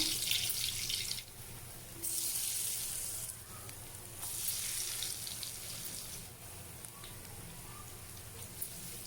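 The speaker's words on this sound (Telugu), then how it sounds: "నూనె కాగిన తర్వాత ఇలా నిరుపుకున్నామండి మధ్య ఇలా వేస్తున్నాము" Black-eyed pea vadas made from stone-ground batter are dropped into hot oil. Bursts of bright sizzling hiss swell and fade several times, moderately close, with no voices over them.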